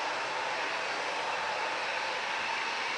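A Miele vacuum cleaner runs steadily during a wildfire smoke filtration test, giving a loud, close, continuous broadband whoosh with no change in pitch.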